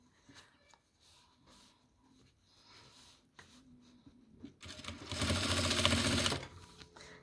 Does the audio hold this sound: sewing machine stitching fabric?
yes